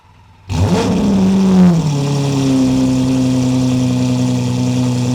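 A Gintani-tuned Lamborghini SVJ with straight-piped V12 fires up after brief quiet, a sharp loud start surging into a rev, then settling into a strong, steady idle close by.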